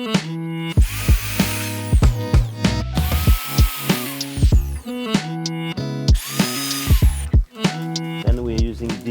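A power drill bores into wood while a dog flap is being fitted, with several rising and falling whirring bursts separated by short pauses, close and loud.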